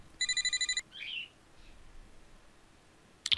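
A phone rings in a visual novel video game: a short electronic ring pattern of rapid pulses, followed by a brief chirp-like tone and a faint blip near the end, clear against a quiet background.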